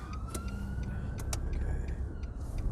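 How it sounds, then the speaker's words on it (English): A police car siren wails from a distance on a UK road, a faint rising and falling tone heard over the steady rumble of the car's engine and road noise, with brief higher chirps and no speech. "So you can hear the ambulance noise."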